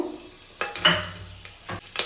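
Mustard seeds and curry leaves crackle in hot oil for a tempering, with a few sharp spluttering pops and a stirring scrape over a quiet frying hiss, close and moderately loud.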